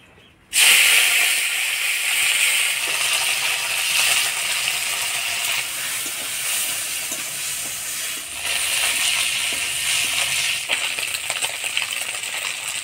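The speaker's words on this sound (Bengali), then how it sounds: "হলুদ লবণ দিয়ে টাকি মাছটা ভাজে নিব" Taki fish seasoned with turmeric and salt frying in hot oil in a heated wok, a loud, steady hissing sizzle that bursts in suddenly and runs on continuously with faint scraping and crackling, no talking.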